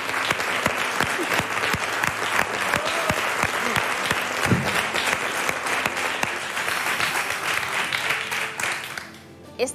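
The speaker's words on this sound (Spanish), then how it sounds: "siéntate, que es para ti este aplauso" Sustained applause from a TV studio audience, dense and steady for nearly ten seconds with scattered louder claps, thinning out at the very end; a voice is briefly heard beneath it.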